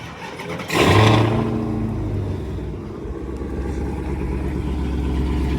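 A Dodge Hellcat's engine barks loudly into a sudden rev at close range, then settles into a deep, steady rumble as the car pulls away.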